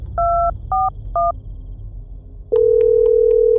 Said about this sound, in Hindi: सामने से किसी ने भी फोन नहीं उठाया